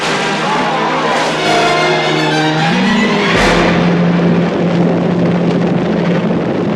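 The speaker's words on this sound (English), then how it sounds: "Some of these explosions look almost Godzilla movie close." Loud, rumbling explosions and roaring blasts from the 1980s film Swamp Thing, with a booming hit midway followed by a lingering noisy rumble.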